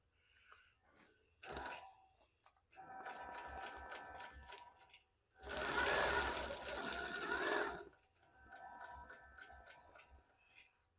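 Sewing machine stitching fabric pieces for a placemat, running in several bursts of steady whirring, with one loud stretch in the middle and short pauses between runs.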